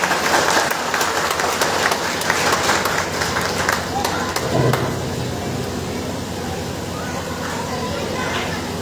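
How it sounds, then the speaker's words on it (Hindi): Audience applause in welcome of Nisha Meshram at an outdoor public meeting in Gopiganj, Bhadohi, a broadband patter of clapping that holds steady through the whole stretch with background noise and some talk. "आयुष्मती निशा मेश्राम मैडम, आप लोग तालियों से स्वागत करें"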